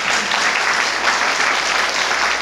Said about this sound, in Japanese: いや本当拍手なんですよ